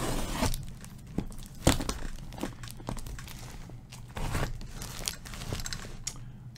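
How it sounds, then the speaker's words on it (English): Packing tape is torn and peeled off a shipping box during an unboxing, heard as faint, close ripping and crinkling sounds in short irregular bursts with no speech. "There is a lot of tape on here."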